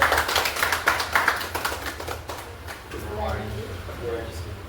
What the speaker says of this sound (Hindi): ताली बजाओ मैडम के लिए एक बार।